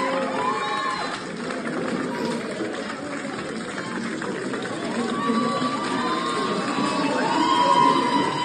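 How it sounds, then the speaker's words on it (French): A crowd outside the Pelicot trial cheers Gisèle Pelicot as she leaves, a steady wash of cheering and shouting from many voices that swells toward the end. "Gisèle Pelicot finit par sortir acclamée par la foule."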